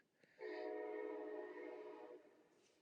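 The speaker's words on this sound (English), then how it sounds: "Sorry about the train." A train passes at a distance, its horn sounding one long sustained chord-like blast that swells in, holds for nearly two seconds and fades, with a faint rumble of rail traffic underneath.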